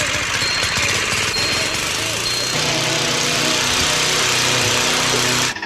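A lawn mower engine runs with a steady, loud, buzzing drone and a rough vibrating rattle that holds throughout before cutting off abruptly at the end.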